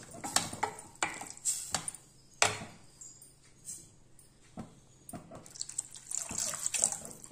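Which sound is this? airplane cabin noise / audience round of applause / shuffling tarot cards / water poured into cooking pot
water poured into cooking pot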